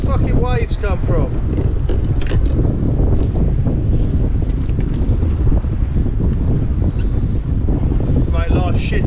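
Sea waves slosh and slap around a fishing kayak off Porthoustock and the Manacles in Cornwall, with strong wind buffeting the microphone in a loud, constant roar, and a voice briefly heard at the start and end.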